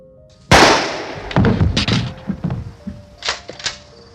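A single sharp gunshot fires in an old horror film, followed by a string of thumps and clattering knocks at varying loudness that fade over a few seconds.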